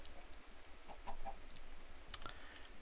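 Minecraft chicken clucking in short, soft bursts over a quiet background hiss, with a couple of brighter squawks near the end of an outback station build.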